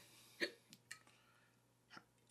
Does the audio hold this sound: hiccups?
yes